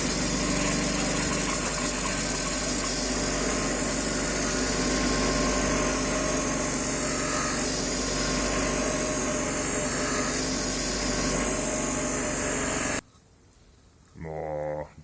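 A homemade MDF knife-sharpening wheel spins up to full speed with a steady, loud motor hum that runs unbroken, then cuts off abruptly near the end, leaving quiet with a few soft handling noises.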